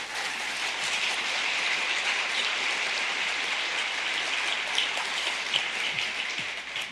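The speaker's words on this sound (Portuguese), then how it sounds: "Será que a gente pode aplaudir eles?" A church congregation applauds its pastors, a dense, steady wash of clapping that holds for several seconds with a few sharper claps standing out.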